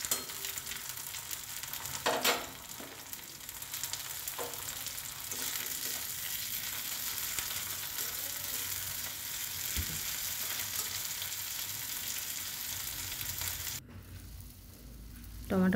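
Chopped tomato and onion fry in a pan with a constant close sizzle and hiss, broken by stirring scrapes near the start and a sudden drop in the noise near the end.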